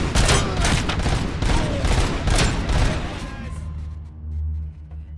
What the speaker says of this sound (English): Someone's still shooting from over here.